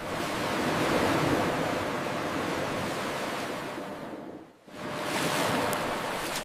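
Water drains through a channel below the washing section of a banana chips factory, a dense continuous rushing wash with a brief dip near the end before resuming, loud and close, with no talk.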